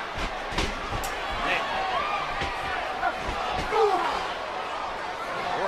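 A slam as a wrestler's skull is driven into a steel cage, a sharp impact near one second among busy crowd noise and an excited commentator talking throughout.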